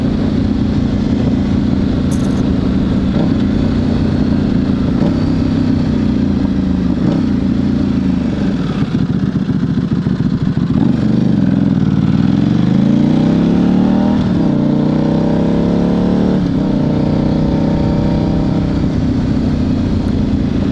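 A 2009 Buell 1125R motorcycle engine runs loud and close for about twenty seconds, a steady deep idle rising into several revving sweeps that climb and fall in pitch toward the end.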